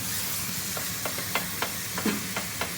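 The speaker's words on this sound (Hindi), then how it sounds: "चिकन हमने हांडी में डाल दिया। अब चिकन की भुनाई करेंगे अच्छी तरह से।" Chicken and onions fry in a handi for chicken biryani, a steady close sizzle with a series of regular spoon taps and scrapes as the pieces are stirred, no voices.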